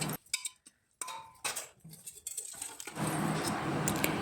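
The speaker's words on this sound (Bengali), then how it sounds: "এবার আমি একটা পাত্রের মধ্যে ঢেলে নেব" Boiled chana dal is poured from a cooking pot into a bowl: scattered clinks and scrapes of metal utensils come first, then a steady, soft rushing pour continues to the end, with no talk.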